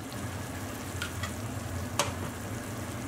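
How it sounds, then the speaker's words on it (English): Tomato paste being stirred into a sauce frying in a pan for dipping salsa, a steady soft sizzle with a few faint scraping stir sounds, no voices. "I'll just stir all that through"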